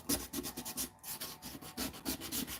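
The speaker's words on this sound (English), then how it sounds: "now if I sand this down, what it's going to look like" Sandpaper rubbed back and forth over a whittled wood carving, a steady run of close, scratchy strokes with a brief pause midway.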